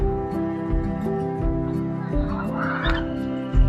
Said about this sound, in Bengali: এই যে দেখেন, এখানে হলো ফার্মি মুরগি।